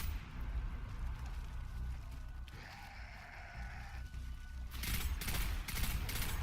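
Acolytes firing guns in the video game Destiny 2: after murky game ambience with a wavering tonal cry, sharp bursts of gunfire crackle in quick succession near the end.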